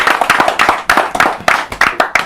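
Audience applause at a press conference in Paris: a short burst of hand clapping with irregular sharp claps, fairly close and loud, with no voices over it.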